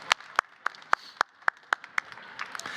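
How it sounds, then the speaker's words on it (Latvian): Audience applause at a Latvian health discussion event after a short warm-up exercise, heard as a run of about ten crisp, evenly spaced claps that thin out and grow uneven toward the end, close and alone. "Maleči, aplausi visiem jums."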